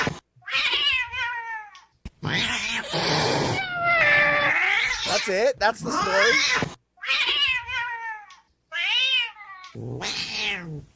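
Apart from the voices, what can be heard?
cat meowing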